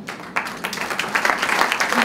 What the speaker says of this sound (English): Thank you and a round of applause to Mr. Kuan Mun Leong